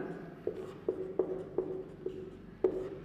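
Chalk or pen writing a note: a run of short tapping strokes with small scratches between them, about six distinct marks, close and fairly quiet, with no talking.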